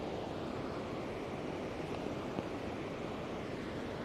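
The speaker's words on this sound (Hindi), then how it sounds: "आप पानी का शोर जो है वो सुन सकते हैं कि कितना ज़्यादा है" A glacier-fed river in Lahaul-Spiti, Himachal Pradesh, swollen by monsoon, roars in a steady, dense rush of water that stays loud and unbroken throughout, with no voices.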